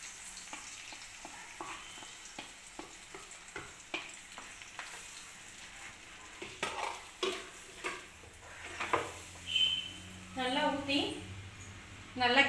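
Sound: stirring dates halwa in a pan

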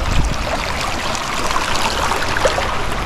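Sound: Capula river stream flowing

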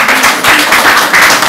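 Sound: applause at a press conference

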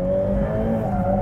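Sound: Ferrari F8 Tributo accelerating out of a corner

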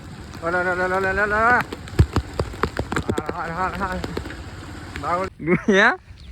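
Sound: rain falling during a storm in Gujarat

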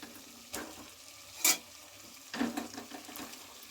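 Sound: stirring fried potatoes into chicken curry in a pan

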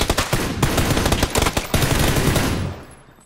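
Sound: gunfire in a video game

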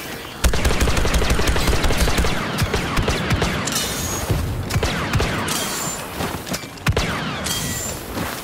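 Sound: blaster gunfire in video game Star Wars Battlefront II

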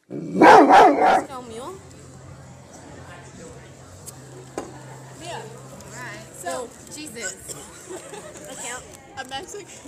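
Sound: dog barking

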